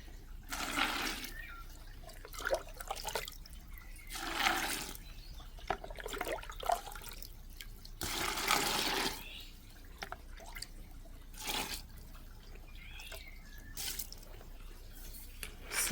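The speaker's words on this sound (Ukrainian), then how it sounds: "І тепер я стільки ж доливаю водички." Water is poured from a container into a bucket to dissolve tomato fertilizer, giving a series of splashing, trickling bursts at close range with pauses between pours and no talk.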